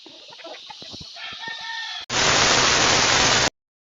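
Chickens cluck and crow over scattered background noise, then a loud burst of hissing noise abruptly takes over before cutting to silence.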